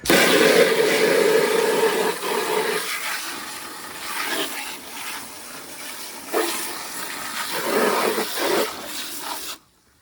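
A hose nozzle on its strongest rinse setting sprays water in a loud, continuous hiss that splashes back and varies in intensity, then cuts off abruptly near the end.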